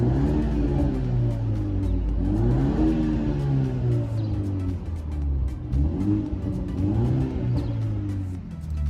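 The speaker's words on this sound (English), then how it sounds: "So I'm just gonna rev it up again so you guys can hear it." BMW 330i engine revved repeatedly from inside the cabin in sport mode, a deep muffled rumble rising and falling in about three long sweeps, steady and fairly loud with no talk.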